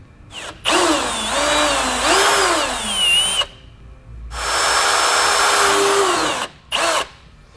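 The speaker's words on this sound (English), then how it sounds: "we're going to want to grab a 5/16 drill, and we're going to drill 2 holes so that we can mount our inflation valves" A power drill with a 5/16 bit bores two holes to mount air-spring inflation valves on a 2016 Chevrolet, each run a loud, close whine that wavers in pitch, separated by a pause and followed by short trigger bursts.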